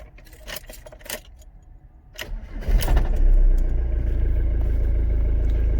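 Keys jangle close by, then a Ford Transit recovery truck's engine cranks and catches, settling into a loud, steady idle.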